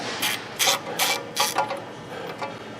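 A Snap-on ratchet working loose a tie rod nut on a worn 280,000-mile vehicle, four loud, close bursts of quick ratcheting clicks in an uneven rhythm, trailing into quieter clicking.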